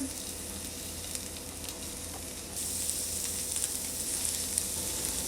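Vegan sisig pieces fry on a cast iron pan or indoor electric grill in a steady, dense sizzle that grows louder and brighter halfway through as more pieces hit the hot surface.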